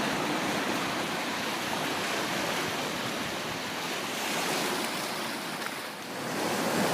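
Sea waves washing onto a shore under a cloudy sky, a continuous broad hiss of surf with a gentle swell around the middle, moderately loud with light wind and no voices.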